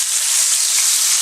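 A hamburger patty sizzles steadily in a pan, a loud, dense frying hiss that holds unbroken and close for the whole short stretch.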